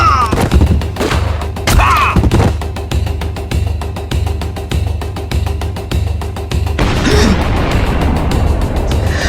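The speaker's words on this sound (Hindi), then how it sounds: "आदिल, बम मारो सालों को" A battle scene from a film fills with dense, loud gunfire bursts and booming bomb blasts, the rapid shots overlapping continuously, with brief shouted voices mixed in.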